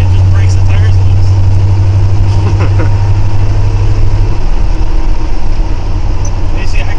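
A 1979 Ford F-150 idles with a steady deep low rumble that drops a little partway through, heard close from inside the truck, with people talking over it.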